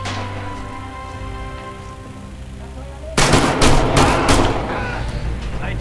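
Red Orchestra 2: Heroes of Stalingrad gameplay, where a sudden burst of loud, sharp gunshots breaks out halfway through, several cracks in quick succession over a low battlefield rumble, then fading to ambient hum.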